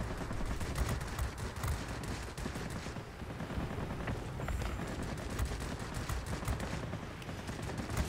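Four 20mm cannons firing steadily on an MB 5 light fighter in the World of Warplanes game, dense continuous bursts of gunfire alone over a constant engine roar throughout.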